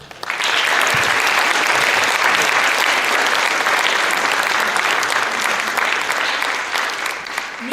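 Audience applause at a music school spring concert in Paide, Estonia, rising quickly into a full, steady wash of clapping that holds for several seconds and thins slightly toward the end, close and loud.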